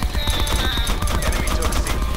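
Rapid automatic gunfire in Call of Duty: Black Ops 4, aimed at shooting down a killstreak: a dense, evenly spaced burst of loud shots over a busy, humming game soundscape.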